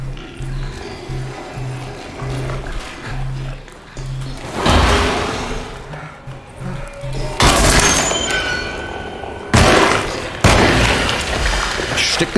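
Booming gunshots and heavy impacts ring out in the 2024 video game Alone in the Dark, several loud blasts spaced across the stretch over a low droning game soundtrack.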